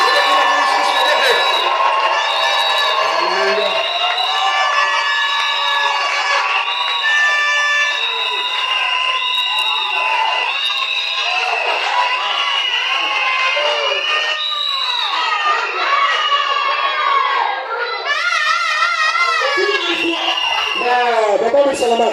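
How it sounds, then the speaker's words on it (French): A large crowd at a Christian crusade gathering cheering and shouting in acclaim, a dense, continuous roar of many voices with rising whoops, loud and sustained throughout. "On acclame le Seigneur Jésus."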